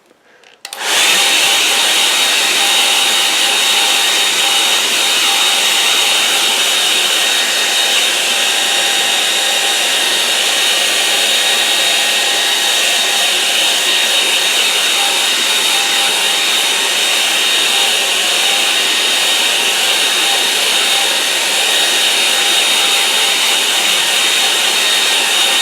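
A hair dryer blows steadily on a watercolour painting, a loud continuous whooshing whine that switches on abruptly and runs unbroken for about twenty-five seconds with no talking.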